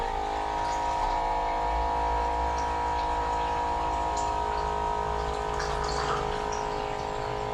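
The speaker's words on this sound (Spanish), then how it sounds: "Yo mientras cargo agua, porque tengo acá mi maquinita de agua" A small home water dispenser runs steadily as it fills with water, giving a continuous pump-like hum with a flowing, trickling layer on top. The sound holds even and close from start to finish, with no one speaking.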